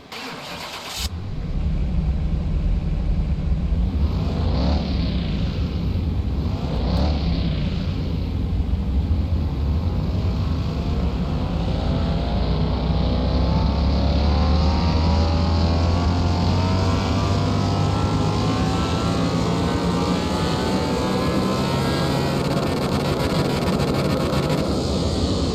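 A factory V12 engine in a Ford Mustang cranks and fires, then gives two sharp revs before settling into a loud, steady, rumbling idle that carries on alone.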